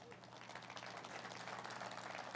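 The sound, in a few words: audience applause for the farmers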